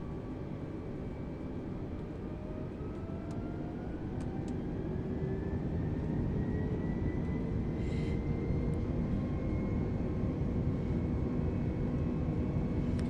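Airliner engines spool up to takeoff (TOGA) thrust, a dense, loud, continuous roar with a rising whine that builds steadily and keeps growing, heard from inside the aircraft with no voices.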